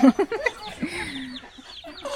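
A chicken clucks close by on a farm, a quick run of loud clucks at the start followed by softer, drawn-out calls and scattered clucking.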